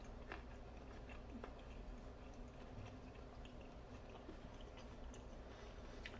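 Crunchy breadcrumb-coated broccoli is chewed close up, with soft repeated biting and crunching over a steady background hiss.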